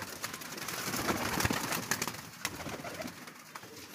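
Pigeons cooing and fluttering nearby in a pigeon house, a steady busy murmur of birds with occasional sharper clicks and rustles, no talking.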